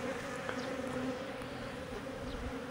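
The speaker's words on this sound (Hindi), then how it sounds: "और वाइब्रेशन जो होती है मधुमक्खियों की, क्या ही बोले उसके, इतना अच्छा लगता है ना" A swarm of honey bees buzzes steadily as it moves into a hive box, a dense, continuous droning hum close by with no talking over it.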